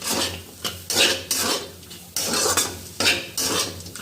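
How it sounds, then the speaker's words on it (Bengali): A spatula scrapes and clanks against a new karai as bitter gourd, sweet potato and round potato fry. Rhythmic metallic stirring strokes come close and loud over a low sizzle. "ভাজা প্রায় কমপ্লিট, আরও একটু নাড়ানাড়ি করে।"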